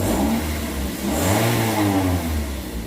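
A car engine with an Eforce throttle device plugged in revs hard, giving a loud, continuous, close roar that swells slightly in the middle with no pause or stumble.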